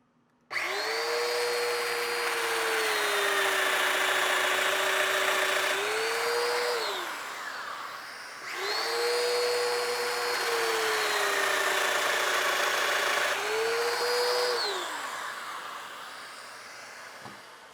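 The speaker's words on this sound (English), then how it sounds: "first I'm going to cut the mortises on the armrest to attach to the back leg" A domino joiner cuts mortises into a chair armrest in two long passes, each a loud whining motor drone of about seven seconds that rises, holds and winds down, with a short pause between.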